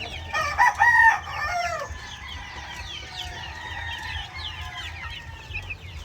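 Chickens and chicks on a small farm cluck steadily, with a loud burst of hen calls near the start followed by softer chirping and clucking over a low background hum.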